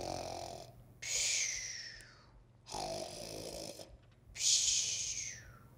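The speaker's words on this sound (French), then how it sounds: "Elle est en train de ronfler sur sa paillasse qui grouille de cancrelat" A witch snores loudly on a straw mattress crawling with cockroaches, three long rasping snores, each rising and trailing off, separated by quiet breaths.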